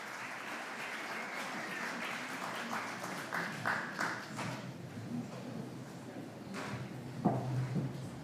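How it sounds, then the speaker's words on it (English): An audience applauds after a screening at the Very Short Film Festival 2023 premiere, steady clapping filling the room for several seconds, with a few sharper claps near the end. "Let's have another round of applause for those."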